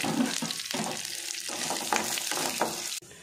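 Chicken pulimunchi masala sizzles and fries in a pan over a medium gas flame, with steady crackling and scraping stirring strokes up close, cutting off abruptly near the end; no one speaks.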